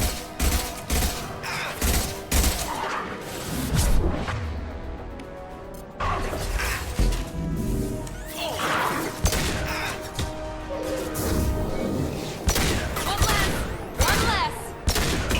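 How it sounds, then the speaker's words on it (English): Mass Effect combat fills the stretch with repeated bursts of gunfire, impacts and whooshing effects, loud and irregular, layered over game music and occasional voices. "Firing an impact shot"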